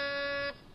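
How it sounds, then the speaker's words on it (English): A door buzzer sounds once in a steady, loud, harmonic drone lasting about half a second before cutting off abruptly. It is heard in a vintage radio comedy show setting. "And I'll press the buzzer."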